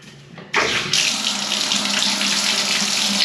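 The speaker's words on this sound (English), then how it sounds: "There, see? Water's on." Water gushes steadily from a tap, starting abruptly after a moment of quiet and then running loud and constant until the end.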